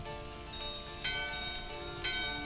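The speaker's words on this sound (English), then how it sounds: "what if I use that bell instead over here?" A bell ringing in the Final Fantasy IX video game, with bright metallic strikes about once a second over steady tonal game music, and no talking.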